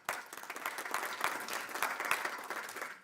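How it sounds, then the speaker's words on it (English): A burst of applause from an audience, steady clapping that swells slightly and then fades near the end, moderately distant. "give yourself a round of applause"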